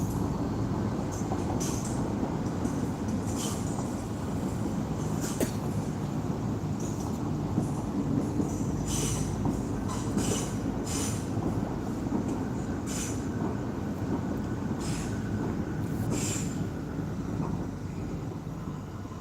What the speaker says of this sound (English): Excuse the train again.